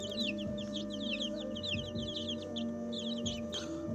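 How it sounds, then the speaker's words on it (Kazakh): Twenty-one-day-old Light Brahma chicks cheep and peep in rapid, overlapping bursts close by, with a steady background hum and a few soft knocks. "21 күні шыққан балапандар мынау"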